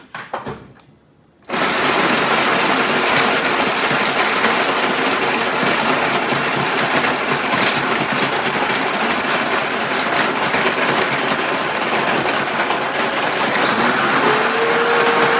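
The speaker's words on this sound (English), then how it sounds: "So we're gonna put the blender on." A loud, steady blender motor crushing ice roars continuously after a brief quiet start, grinding at a constant pitch with a faint high whine near the end.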